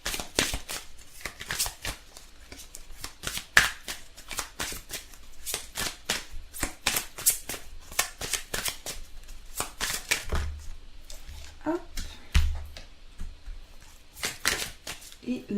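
Heart chakra oracle cards are shuffled in quick, crisp bursts of riffling and flicking, close and fairly loud, with brief pauses between runs and a voice now and then.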